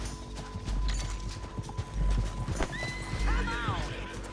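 Horse hooves clip-clop and a horse whinnies in the Red Dead Redemption 2 video game, with irregular hoof thuds and a rising, wavering neigh near the end, all under ongoing talk.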